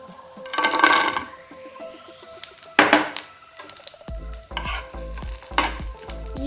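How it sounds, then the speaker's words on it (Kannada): Raisins and cashews frying in ghee for carrot halwa, a crackling sizzle broken by several sharp stirring scrapes and pan knocks, close and fairly loud, no voices. "ನಮ್ಮ ದ್ರಾಕ್ಷಿ ಗೋಡಂಬಿನ ಫ್ರೈ ಮಲ್ಪೊಡು"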